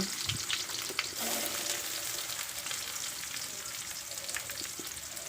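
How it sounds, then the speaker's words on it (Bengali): Whole spices sputter and crackle in hot oil in a pan while being stirred, a close, continuous fry with scraping strokes of a spoon, no voices over it. "ফোড়নটা দেওয়ার 30 সেকেন্ড নাড়িয়ে নিয়ে তারপর কুচিয়ে রাখা পেঁয়াজগুলি দিয়ে দেব"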